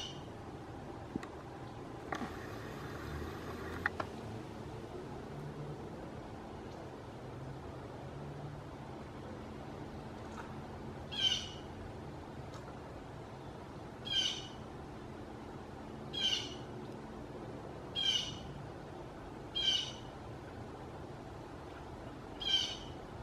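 A red-shouldered hawk gives repeated sharp, high calls spaced a few seconds apart over quiet outdoor background, fairly distant, after an earlier brief burst of mechanical noise.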